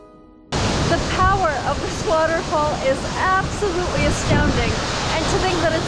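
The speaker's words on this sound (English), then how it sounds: "The power of this waterfall is absolutely astounding" A powerful waterfall near El Chalten in Patagonia roars in a loud, continuous broadband rush that starts abruptly and stays steady throughout, with a voice talking over it.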